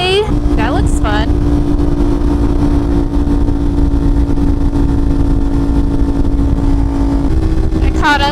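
A sport bike's engine holds a loud, steady drone close by with throttle opened, pitch rising briefly at the start and end over constant road noise.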